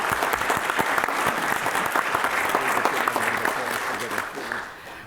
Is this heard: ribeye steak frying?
no